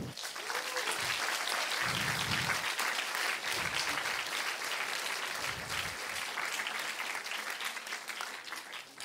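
An audience at an institutional presentation at the EHESS academic year opening applauds the interpreters, sustained dense clapping filling the room for the full stretch, with bits of low murmuring beneath.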